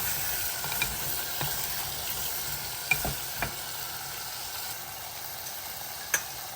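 Cut potatoes fry in a pan under a soft, steady sizzle, broken by a few scattered light knocks and scrapes from stirring, fairly faint, with no speech.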